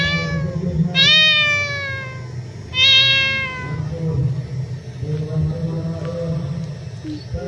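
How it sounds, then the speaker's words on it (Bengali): A cat gives two loud, drawn-out meows close by, separated by a pause, with low background murmur and faint mumbling afterward. "তোমার বিড়ালের ডাক শুনে বলে এটা আবার কোন ক্যাট?"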